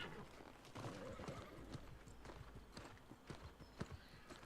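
Horse hooves clip-clop steadily as a horse is ridden along a road in the New World video game, a quiet, even rhythm of hoofbeats carrying on throughout.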